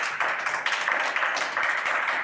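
An audience claps for a departing contestant on a dating-game show, a dense run of close handclaps lasting the whole moment without voices.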